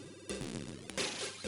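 Feud on the Amstrad, the in-game sound of a rival mixing spells: a short burst of bright, buzzy chiptune tones with stepping pitches and a couple of sharp accents, over about a second.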